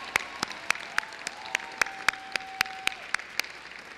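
At the Ann Arbor Huron High School 2017 commencement, crisp claps ring out in a steady, regular beat over soft background noise. A faint sustained tone runs beneath them.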